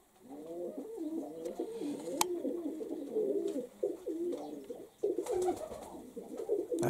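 Pigeons in a new aviary coo continuously in soft, throaty, rolling phrases, a male courting a female with wing shakes, close and steady, with faint rustles and a few sharp clicks.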